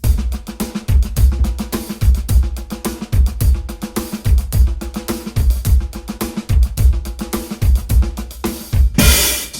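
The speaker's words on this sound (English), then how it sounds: "The Kalle Mathiesen Funk 1 sounds like this." A drum kit plays the Kalle Mathiesen Funk 1 groove, a busy sixteenth-note funk rhythm with punchy kick, snare accents and ghost notes, ending with a crash cymbal, loud and close with no talking.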